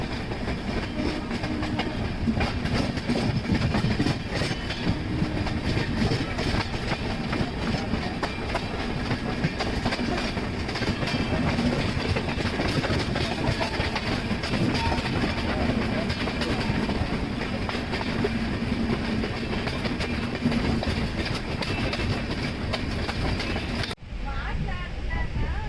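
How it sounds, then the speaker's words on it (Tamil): A Vijayawada Jan Shatabdi Express running alongside, heard from an AC double decker express travelling from MGR Chennai Central: a continuous loud rumble with rhythmic clickety-clack of wheels on rail joints, steady for the whole stretch before it cuts off abruptly near the end. "Vijayawada John Shatabdi express MGR Chennai central to Vijayawada parallel run"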